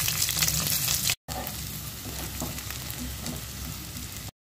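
Chopped onions frying in oil left from frying fish for a katla fish head and cabbage dish, a loud, dense crackling sizzle at close range, broken by two brief silent gaps.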